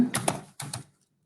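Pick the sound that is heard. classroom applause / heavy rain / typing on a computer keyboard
typing on a computer keyboard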